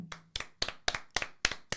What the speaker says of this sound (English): round of applause for me, please.